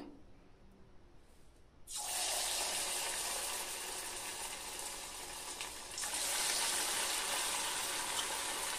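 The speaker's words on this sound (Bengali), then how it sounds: "তেলটাকে আমি ভালোভাবে গরম করে নিয়েছি। এবারে আমি এক এক করে চিকেনগুলো দিয়ে দেব।" Chicken pieces dropped one by one into hot white oil for chicken 65, faint quiet hiss before a sudden loud sizzle bursts up and keeps crackling, swelling again as more pieces go in.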